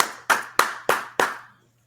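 A short burst of hand clapping: five sharp, evenly spaced claps ringing out close and loud over about a second and a half, then silence, with no voices over them.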